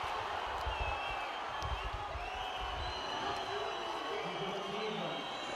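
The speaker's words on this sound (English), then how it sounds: "You can hear the crowd." A large crowd roars continuously in an indoor arena at a women's volleyball Champions League match, a dense wall of cheering and shouting with voices mixed in.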